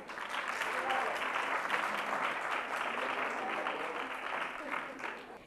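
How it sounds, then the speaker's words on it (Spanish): Audience at an award gala for a nativity scene and Christmas tree contest applauds steadily, a dense, even clapping from a crowded room heard at moderate distance, with no talking over it. "Estupendo, un aplauso fuerte."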